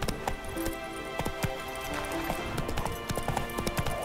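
Roach the horse gallops in The Witcher 3, a quick run of hoof clip-clops with faint jingling of tack, moderately quiet and rhythmic, over a low game ambience.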